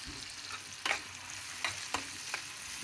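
Onions frying in a pan while making a peanut-powder amaranth-leaf stir fry, with a steady soft sizzle and a few sharp stirring scrapes of a spoon against the pan, no talking.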